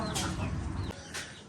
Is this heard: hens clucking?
yes